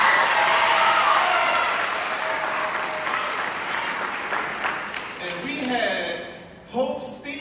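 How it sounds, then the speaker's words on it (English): Crowd applause for middle school cross-country runners at a team awards event, a strong burst of clapping that thins out over several seconds as a voice starts speaking near the end. "Let's give them a round of applause."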